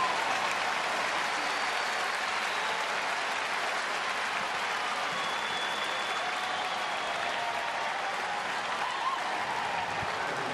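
Baseball stadium crowd at a Brewers–Reds game applauding and buzzing, a continuous wash of distant clapping and murmur that stays steady and fairly loud throughout.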